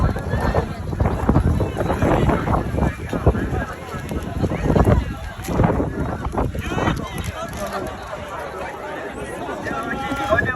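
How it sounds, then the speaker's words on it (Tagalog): Strong wind buffets the microphone outdoors at a Japanese coming-of-age ceremony, a continuous loud roaring rumble with gusts, and people talk in the background. "Grabe ang lakas ng hangin ng araw niya."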